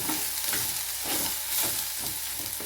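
Green chillies fry in coconut oil with a dense, steady sizzle, close and fairly loud, and a faint rhythmic scraping of stirring pulses underneath.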